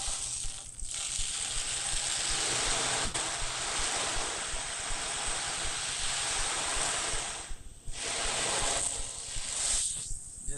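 An ocean drum is tilted to mimic surf, its rolling beads making a continuous close hiss of washing waves that briefly drops out near eight and ten seconds before surging back.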